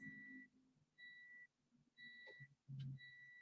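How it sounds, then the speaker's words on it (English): Kitchen oven timer sounding a run of four evenly spaced electronic beeps, each about half a second long, fairly faint in a quiet room with a few soft knocks and rustles between them. "So the beep beep was the timer."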